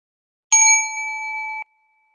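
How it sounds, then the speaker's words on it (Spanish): A single strike of a meditation singing bowl bell in a quiet mindfulness session, a bright metallic ding that rings on with clear sustained tones for about a second before being cut off, alone in silence. "Ponemos atención en el sonido de la campana del cuenco que nos traslada al presente de inmediato."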